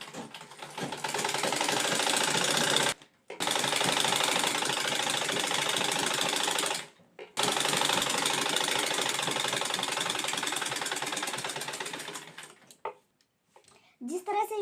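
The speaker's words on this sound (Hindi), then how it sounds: "जिस तरह से यहाँ पे सिलाई डाली उसी तरह यहाँ पे भी सिलाई डाल देंगे।" A sewing machine stitches a lined blouse in loud, close, rapid continuous runs, pausing briefly twice and stopping near the end.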